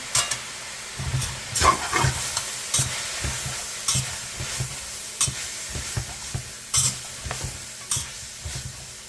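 Pork red curry with basil and green beans sizzles steadily in a hot pan just after soy sauce is added, with a constant frying hiss broken by repeated sharp stirring scrapes and clatters close by.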